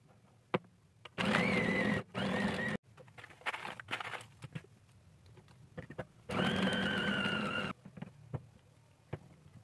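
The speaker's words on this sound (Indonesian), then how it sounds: "masukkan terus secara bertahap es batunya sampai selesai sambil terus di blender." A small blender runs in two loud bursts of about a second each, grinding meatball mixture with crushed ice, with quieter clatter and handling noises between and after them.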